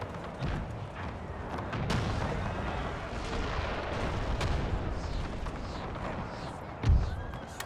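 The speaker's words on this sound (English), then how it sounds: "They're still firing round shot, clearly, given the commotion right here." Round shot artillery fires in a Napoleonic-era battle game mod, with dull booms and rumbling battle commotion, one heavier close blast near the end.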